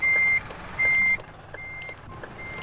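Reversing beeps of a bus in the Bus Driving Sim 22 video game: two loud, steady electronic tones, each lasting about a third of a second, followed by a fainter third beep, over a low engine hum.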